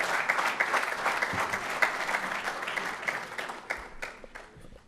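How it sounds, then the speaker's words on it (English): An audience applauds Coach Marv Levy at a Pro Football Hall of Fame event, with dense sustained clapping that holds throughout and gradually thins toward the end. "let's give Coach Levy another round of applause for that"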